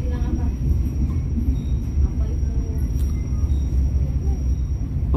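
A passenger train pulls into the small station at Pasir Jengkol, with a steady low rumble and wheel noise throughout, loud and close from inside the carriage, with faint voices underneath.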